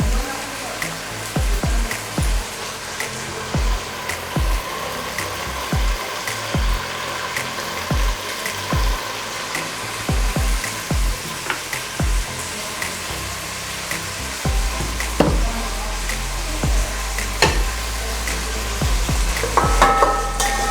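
Vegetables for fried rice sizzle and fry in vegetable oil in a pan, a steady hiss with intermittent stirring clatter and scrapes, growing louder toward the end; no talking.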